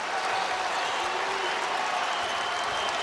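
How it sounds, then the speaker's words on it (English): A basketball arena crowd cheers and applauds in a dense, continuous roar of clapping and shouting at a home college game, loud and sustained throughout. "The crowd is on its feet."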